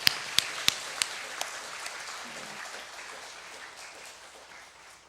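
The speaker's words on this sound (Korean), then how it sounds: "박수로 하나님께 영광 돌리겠습니다" A church congregation at a Sunday morning service claps. A few sharp claps open it, then a soft diffuse patter of applause fades gradually into the room.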